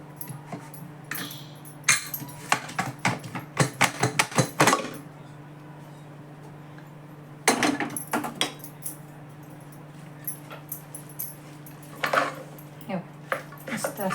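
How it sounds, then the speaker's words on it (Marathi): A pressure cooker holding boiled dried peas is opened in a home kitchen, with pots and utensils clattering in bursts of metallic clinks and knocks, separated by quiet stretches over a low steady hum. "बाजूला ठेवते आणि कुकर उघडून बघते"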